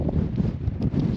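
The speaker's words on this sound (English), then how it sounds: "Can you tell how windy it is?" Strong wind in the South Dakota Badlands buffets the microphone in a steady, loud low rumble with gusty swells throughout and no talking.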